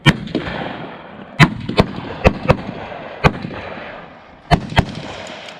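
Sharp, loud AR-15 rifle shots ring out at an outdoor shooting range, about ten reports spaced irregularly, some close together in pairs, with a low background rumble between them.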